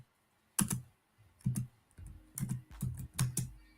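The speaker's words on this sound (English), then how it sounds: "mute that when you're typing" Computer keyboard typing during an online podcast call: several quick bursts of clicking keys, close and fairly loud, with short pauses between them and no talking.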